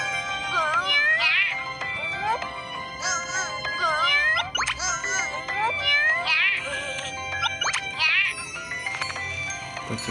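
An orange cat meows repeatedly, several clear, rising and falling calls spaced across the stretch, close and fairly loud over a steady tonal backdrop.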